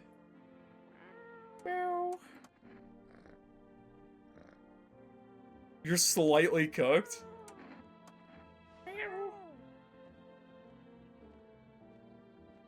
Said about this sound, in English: Is cat even a cat? The cat is a cat.